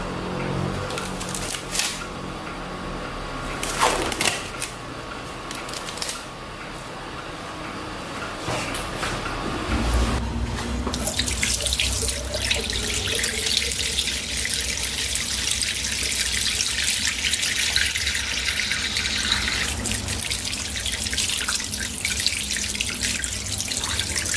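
Hands being washed under a running tap at a clinic sink after a urogenital examination, with a steady rush of water filling the second half after quieter handling and faint clatter.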